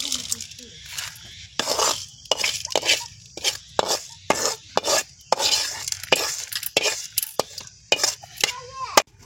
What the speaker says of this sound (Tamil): இப்போ இதெல்லாம் சேர்த்து அம்மியில் வச்சு அரைச்சி எடுத்துடலாம்.